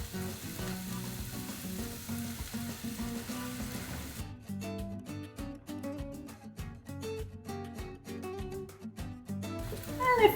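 Tomato sauce hitting tomatoes in a pot for turkey meatball soup sets off a continuous, crackling sizzle that turns sharper and more spattery midway, close and fairly quiet, with no talk.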